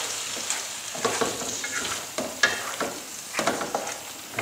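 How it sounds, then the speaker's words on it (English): Cooked penne being stirred into a spicy arrabbiata tomato sauce in a hot pan, with repeated wet scraping and squelching strokes over a soft sizzle, close and moderately loud, with no talking. "Let's mix everything together."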